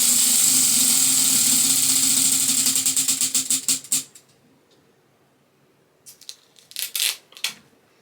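A prize wheel spun to pick a book ticks rapidly, its clicks spreading out and slowing until it stops after about four seconds, followed by quiet with a few soft handling noises.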